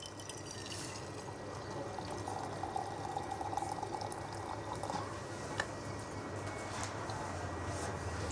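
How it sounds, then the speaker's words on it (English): Boiling water pours into a teapot to warm it, a soft steady trickle against low room hiss, faint and continuous throughout. "The first thing I'm going to do is warm the pot using some boiling water."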